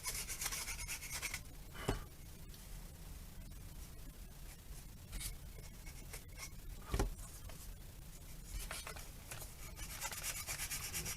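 Hand sanding of a small wooden fractal mini plank with 240 grit sandpaper, a steady soft rubbing rasp broken by a couple of sharp taps, fairly quiet and close.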